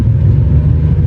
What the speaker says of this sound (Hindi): वो एक जो रोरिंग साउंड है ना इंजन की